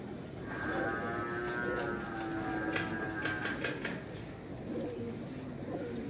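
A fancier's pigeons coo in low, drawn-out, throaty calls that overlap continuously at moderate volume, with a humming farmyard-like backdrop.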